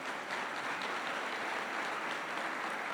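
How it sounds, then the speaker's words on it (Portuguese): A church congregation applauds during a sermon, a steady, fairly faint wash of many hands clapping together without a break. "Você pode aplaudir ao Senhor por isso?"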